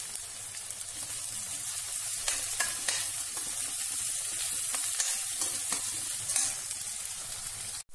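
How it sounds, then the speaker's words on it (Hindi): Chopped onions sizzle in hot oil in a pan while a bottle gourd curry is cooked, giving a steady, dense crackling hiss with occasional stirring scrapes and sputters throughout. "देन प्याज, देन इसे थोड़ी देर पकने देंगे जब तक ये लाल नहीं हो जाते।"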